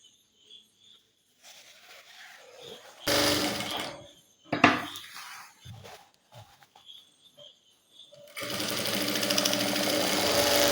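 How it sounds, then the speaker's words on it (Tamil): Sewing machine stitching a girls' uniform pant, bursts of fast mechanical whirring that start and stop, with quiet pauses and handling noises between runs and a longer steady run at the end. "இதே மாதிரி இந்த பக்கத்துலேயுமே நம்ம ஒரு தையல் போட்டுக்கலாம்"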